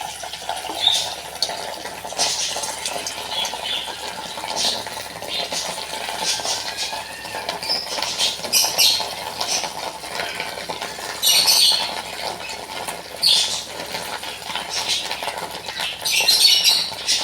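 Lentil fritters fry in hot oil in a wok, dropped in one by one. The oil gives a steady close sizzle with bursts of sharper crackling.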